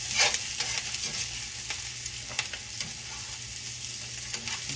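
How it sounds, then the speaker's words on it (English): Garlic sizzles steadily in a hot pan on a home kitchen stove, with a constant frying hiss broken by scraping stirs of a utensil against the pan, close and clear with no talk. "I'll leave it on while I just stir that garlic out and let some of those flavors go through."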